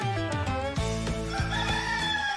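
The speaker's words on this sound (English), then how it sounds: "the Rooster." A rooster crows in a radio station jingle, its drawn-out cock-a-doodle-doo loud and up front, layered over a harmonic musical bed with clucking, and no speech.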